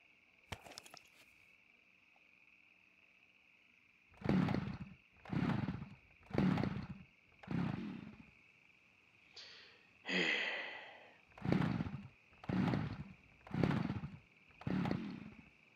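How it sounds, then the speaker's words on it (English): A chainsaw in the survival video game Scum buzzes in about nine short, evenly spaced bursts with a steady high whine droning beneath them, each burst loud and close. "that's about like using a chainsaw in real life"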